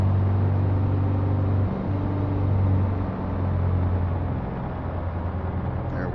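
Steady propeller aircraft engine drone in Microsoft Flight Simulator as the power is pulled back after takeoff over the Seychelles, the low hum stepping down in pitch partway through and then continuing evenly, with no talking.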